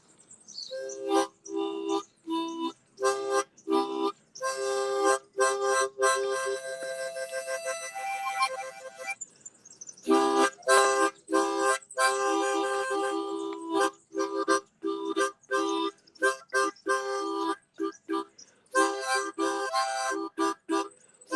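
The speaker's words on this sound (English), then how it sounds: "I'm going to play a little bit of my harmonica." Harmonica played in bursts of sustained reedy chords with short gaps between phrases, loud and close, running for about twenty seconds with no talking.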